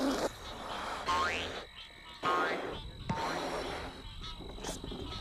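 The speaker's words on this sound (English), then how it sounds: "When a frog croaks, it puffs up the skin around its neck and vibrates the air really fast." Frogs croak in a series of loud, raspy pulsing calls, several bursts in a row with a faint high whine behind them.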